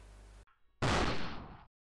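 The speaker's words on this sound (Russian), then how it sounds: "Мы слышим выстрел." Gunshot in the video game Happy Birthday: after a low hum and a brief quiet gap, a single loud, close blast bursts out and rings for nearly a second before cutting off abruptly.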